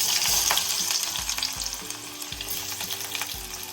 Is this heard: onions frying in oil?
yes